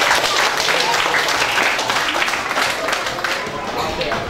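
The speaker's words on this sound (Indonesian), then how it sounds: "Mari kita memberikan tepuk tangan yang meriah." An audience at an elementary school event in Manokwari claps steadily and loudly for several seconds, a dense continuous patter of many hands with no pauses.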